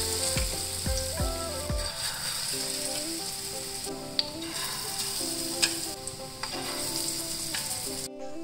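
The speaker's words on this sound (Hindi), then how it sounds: "एक एक करके जो मेरा पकौड़ा है उसको इस तेल के अंदर डाल दूँगी" Aloo chop pakoras frying in hot oil in a pan crackle and sizzle continuously up close, with a few thuds and clinks as they are dropped in.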